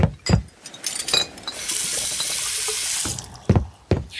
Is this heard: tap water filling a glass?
yes